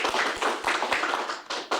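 An audience at a university humanities symposium gives a short burst of applause, with separate sharp claps in an uneven patter that comes close and fairly loud.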